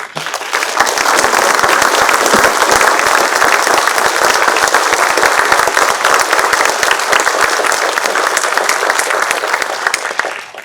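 Sustained, loud applause from an audience at a university engineering college's faculty and staff meeting. Dense, steady clapping fills the room for about ten seconds without speech, then tapers off at the end.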